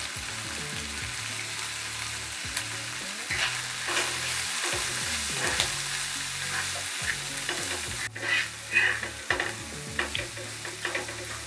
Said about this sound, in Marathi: आता त्यामध्ये मसाला घालत आहे।